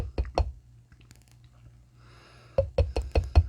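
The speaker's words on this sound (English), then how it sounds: "Sorry for the knocking" Knocking while painting in a backyard: a few sharp wooden-sounding knocks at the start, a quiet gap, then a quick burst of several loud, close knocks and taps near the end.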